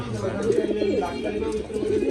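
A male Karmona pigeon coos repeatedly inside its pen, its low calls close by and heard beneath someone talking.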